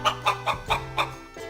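A white hen clucks on a farm in a quick series of five or six short, evenly spaced clucks that fade toward the end, close and moderately loud over a faint steady hum.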